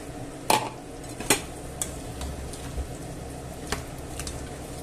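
Potatoes being mixed in a pot for a bacon-chorizo stew: a couple of sharp utensil knocks against the pot, then softer scattered clinks and scrapes over a low steady background.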